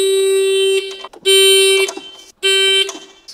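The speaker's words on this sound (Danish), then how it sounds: "Hvor fuck bipper den sådan, mand?" A device beeps loudly after its key is turned, giving three long steady electronic tones separated by short gaps, each tone trailing into a brief rattle.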